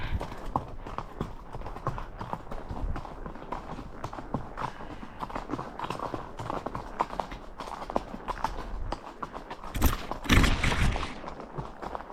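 An Icelandic horse running along a riding trail, its hooves clip-clopping in a quick, steady rhythm up close, with wind and tack noise throughout and a louder burst of rumble near the end.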